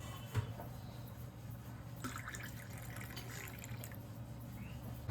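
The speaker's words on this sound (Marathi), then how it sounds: "यात आता गरम पाणी वततोय" Hot water is poured into a container in a quiet kitchen, a soft trickling stream with faint splashes and drips, low and close, with a brighter burst of liquid midway.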